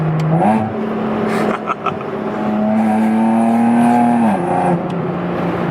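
A supercharged Nissan 370Z accelerates hard at full throttle, its engine note droning and climbing steadily from inside the car, with a brief shift dip early on and the pitch easing off near the end.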